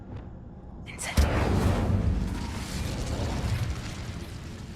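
Casting the Incendio fire spell in Hogwarts Legacy: a sudden whooshing burst of flame after a short sparkly rise, then a roaring, crackling fire sustained at moderate loudness that slowly fades.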